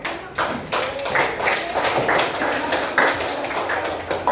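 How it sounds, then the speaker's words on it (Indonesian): A school class claps hands together in a classroom, a thick, slightly uneven round of clapping with some rhythmic accents, close and loud throughout. "Ya, tepuk tangan."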